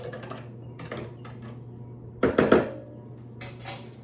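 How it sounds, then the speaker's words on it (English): Canned biscuit dough is cut into quarters with a knife, giving a few sharp clinks and taps against a board or dish, two brief clustered bursts over a low steady hum, no talking. "now we're going to cut up our biscuit pieces"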